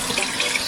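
Cold tap water runs steadily into a basket in a sink, a close, continuous splashing hiss with slight gurgles and no talk.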